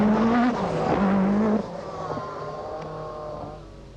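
A Peugeot rally car at the 1985 Lombard RAC Rally driving hard through a chicane: a loud, strained engine note shifting pitch as it brakes and accelerates, then fading slightly as it moves away.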